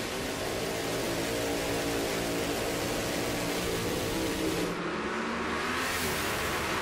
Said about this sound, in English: Jay's away first, but Jonnie is streaking to the finish line